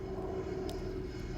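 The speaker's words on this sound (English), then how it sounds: "Planes are flying overhead." Airplanes pass overhead on a clear day in Rockport, Texas, heard as a faint, steady, distant engine drone that holds for the short stretch without other clear sounds.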